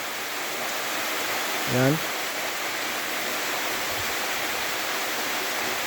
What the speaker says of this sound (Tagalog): So ito yung falls, napakaganda ng falls niya.